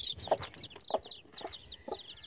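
Aseel chicks about three days old cheep in quick high chirps close by, with a few lower clucking notes from farm fowl mixed in.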